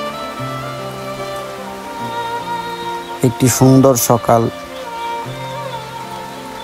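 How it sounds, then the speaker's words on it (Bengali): Steady rain falling on a village morning, a soft continuous patter under a voice talking throughout, with a brief louder burst of sound midway. "ঘুম থেকে উঠে দেখি বৃষ্টি পড়ছে, হাঁস মুরগি ডাকতেছে।"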